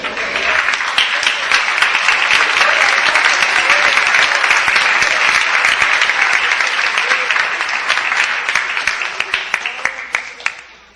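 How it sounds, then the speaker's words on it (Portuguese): A church congregation at an IPDA service in Curitiba breaks into loud, dense applause that holds steadily for about ten seconds before tapering off at the end. "alegrar no Senhor com as palmas bem forte"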